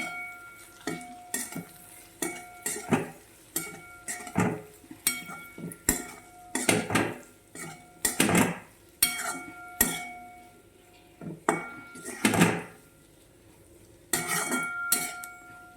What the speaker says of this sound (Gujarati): ને હવે બરાબર આપણે તેને મિક્સ કરી દેવાનું છે